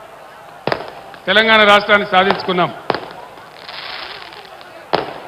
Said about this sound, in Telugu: ఈ టపాకాయలు కాల్చేటోడు మనోడేనా మందోడవాడు?